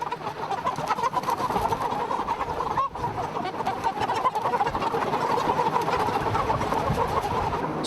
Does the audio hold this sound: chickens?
yes